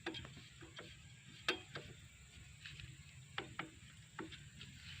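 Clutch bolts on a Yamaha RX King motorcycle being tightened with a hand tool, giving a series of faint, irregular metallic clicks and ratcheting ticks close by, in a quiet setting with no talk.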